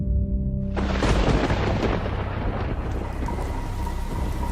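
Heavy rain pours steadily with a loud rolling thunderclap that breaks in and rumbles on, dense and close, with no voices.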